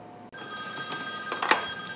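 A desk telephone at a dispatch call desk rings once, a bright electronic trill that starts abruptly and holds steady for about two seconds, with no talking.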